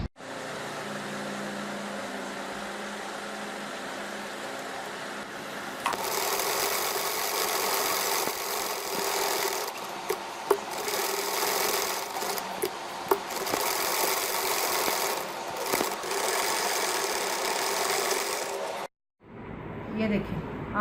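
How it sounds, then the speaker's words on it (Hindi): A sewing machine stitches a V-shaped neck piece onto a shirt, starting after a quiet hum with a steady, loud motor whir and rapid needle clatter, pausing briefly a few times before stopping abruptly. "हम यहाँ पर सिलाई लगाएंगे और शर्ट के साथ अटैच करेंगे।"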